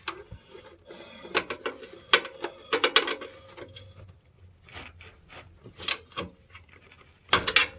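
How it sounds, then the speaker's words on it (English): A half-inch ratchet with an extension works the oil drain plug loose on a 2006 Dodge Durango 4.7 liter, giving bursts of sharp clicking and clattering knocks in uneven runs, close by and fairly loud, with a longer burst near the end. "I'll put my extension on my 1/2 inch ratchet"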